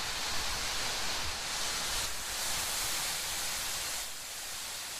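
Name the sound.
Liusha waterfall, China's longest waterfall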